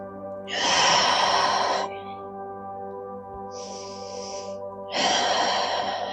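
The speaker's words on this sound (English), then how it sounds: "Remember to inhale through your nose and exhale through your mouth." Slow, audible breaths during a yoga flow: a long airy inhale, a pause, a shorter breath, then another full breath, close and clear over a faint steady hum.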